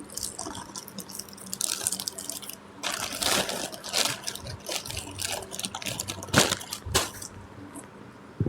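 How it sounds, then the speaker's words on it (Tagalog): Someone sips water from a bottle or glass, with soft wet drips, gulps and small crunchy handling noises coming in close irregular bursts against a quiet background. "inom lang tubig."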